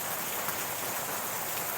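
Steady rain falling on a rainy morning, a continuous dense hiss of drops hitting surfaces, even and unbroken throughout with no voices.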